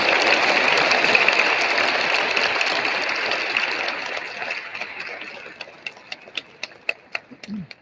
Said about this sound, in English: Let's give all of our winners one more big round of applause.